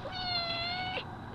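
A cat in labour giving birth lets out a single drawn-out, strained meow, close and fairly loud, followed by a brief sharp sound at the end.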